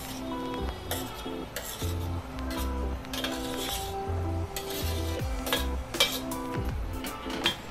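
A metal spoon stirs mashed eggplant into onion greens in a pan on the stove. It clinks and scrapes against the pan in a steady rhythm over a soft sizzle, and the sound is close and clear with no talking.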